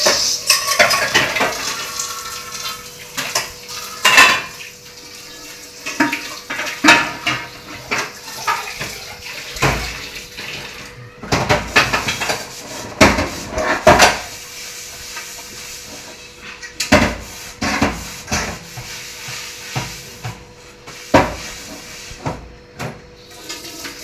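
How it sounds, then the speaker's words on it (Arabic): Dishes and cutlery clatter and clink steadily under running water, with frequent sharp knocks of plates and utensils close by. "واغسل بقى المواعين بتاعتي"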